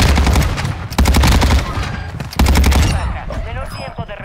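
Rapid automatic gunfire in Call of Duty: Warzone 2.0, loud close bursts of rattling shots with brief pauses and a trailing echo.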